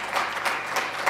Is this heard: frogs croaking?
no